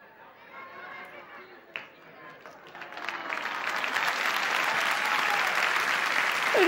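A studio audience at a 1991 Spanish television variety show breaks into applause. It starts after scattered murmurs and a single sharp sound, then swells into steady, loud clapping mixed with crowd chatter.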